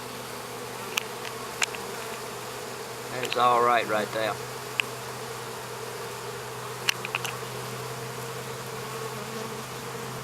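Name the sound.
swarm of small honey bees buzzing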